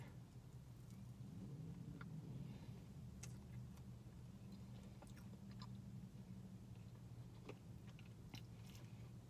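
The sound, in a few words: biting and chewing a granola-topped Krispy Kreme doughnut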